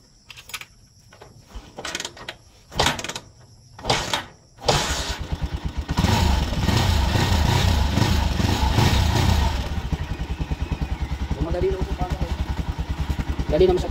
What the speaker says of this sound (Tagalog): So second step natin ay paandarin natin yung motor.